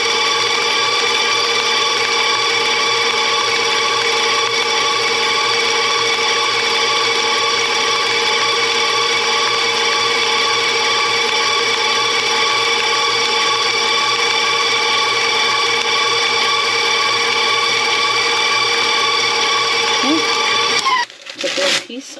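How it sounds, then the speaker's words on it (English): Vanilla cake batter made with brown butter is beaten by a mixer that holds a steady, high motor whine for about twenty seconds before it stops with a brief clatter. "Now let's beat it for another minute and we should be good."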